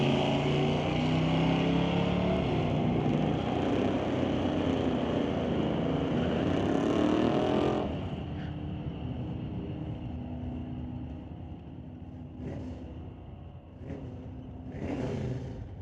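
Drag race at a summit ET series final, a 1990 Ford against a 1970 Chevy C10, with loud engines roaring and revving for several seconds before dropping to a quieter distant engine drone and a few fainter bursts.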